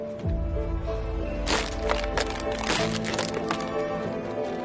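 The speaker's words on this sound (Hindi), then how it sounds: "इस ढक्कन को ऐसे दबा के इसके अंदर डाल दीजिए" Pressing a cap down into a plastic water bottle makes a cluster of sharp crackling crunches and plastic clicks near the middle, up close, over a steady background hum.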